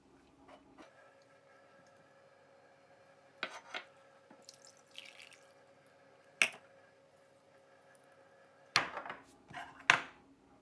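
Yeast, oil, warm water and sugar are added to a mixing bowl in a quiet kitchen while making tiger bread: sparse clinks, light taps and small pouring or dripping sounds at irregular intervals, with soft steady hum between.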